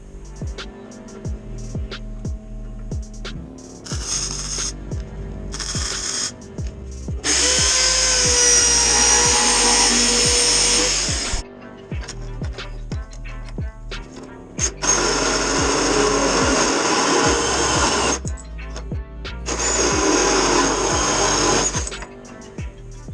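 Metal tubing being cut and welded for a homemade mini street go-kart frame, with long loud bursts of buzzing power tool and welding noise separated by quieter pauses and clanks.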